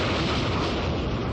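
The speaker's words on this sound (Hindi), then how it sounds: "इरप्शन" A cartoon volcano erupts in a loud, dense, continuous roar and rumble, a brief sustained blast with no voices.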